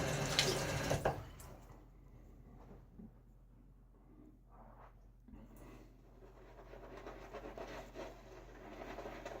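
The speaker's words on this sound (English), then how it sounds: "Oh, I forgot to throw a little water on there." Water splashes loudly onto a face for a moment at the start during shaving, then quiet rubbing and faint trickling follow, with running water returning softly toward the end.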